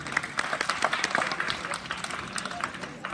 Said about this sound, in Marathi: टाळ्या वाजवा जरा त्यांच्यासाठी।